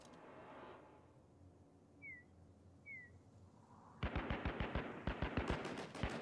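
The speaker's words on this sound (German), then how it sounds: "die schießen ja alle hoch" Rapid automatic gunfire in the Shattered Skies video game bursts in loudly after a quiet stretch, a fast string of sharp shots following two faint whistling calls.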